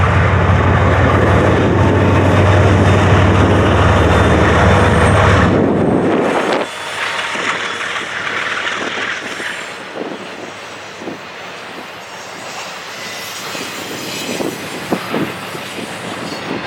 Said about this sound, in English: this eastbound intermodal train made its way through on the Chicago line